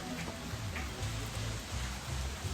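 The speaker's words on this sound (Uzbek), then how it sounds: "Bizda hozir yomg'ir yog'di." Steady rain falls throughout, a dense broadband patter with a few soft low thumps from drops striking a surface nearby, no voices over it.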